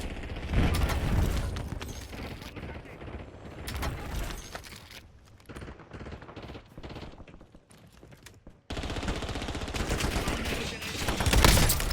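Automatic weapon fire in the video game Warzone, rapid bursts of shots layered with booms and mechanical clatter, loud and dense at the start and end with a quieter patch and a brief silence near the middle.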